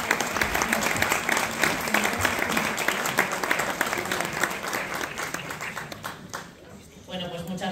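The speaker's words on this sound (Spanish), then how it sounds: "La recibimos con un aplauso." An audience in the theatre stalls at a Spanish peñas gala gives a loud, sustained round of applause that thins and dips near the end as a voice comes in.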